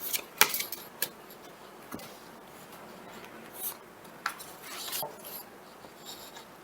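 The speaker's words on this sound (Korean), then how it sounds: "이번 주 우리 수호천사님께서 3번 분과 언제 어떻게 함께 계셔주실지 카드를 뽑아보도록 하겠습니다." Tarot cards drawn from a deck in a quiet room, heard as soft paper rustles and scattered light taps and clicks, close and faint, with no talking.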